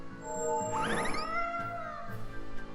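Cats meowing from a cat's box in the video game Tales of Berseria, a short burst of rising, wavering meows in the middle over a steady game music bed.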